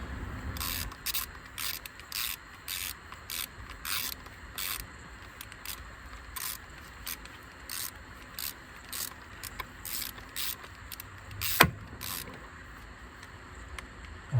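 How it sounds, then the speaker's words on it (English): A ratchet wrench clicks in short, evenly spaced bursts while tightening camshaft cap bolts on a Mazda Skyactiv engine during a worn exhaust camshaft repair, with one sharper clank near the end. "So tighten this one to 2 Newton meters."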